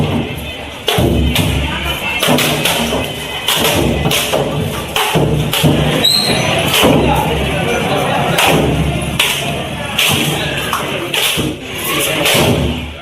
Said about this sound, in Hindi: उसके बाद 108 नारियल चढ़ाए गए, जश्न में फोड़े गए